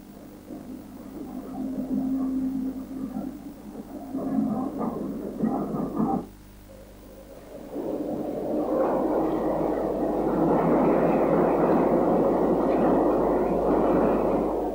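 Low rumbling and hissing of steam locomotive No. 25 Godshill idling on the Isle of Wight before departure, then building into a louder, steady broadband hiss and chuff-like roar after a brief lull.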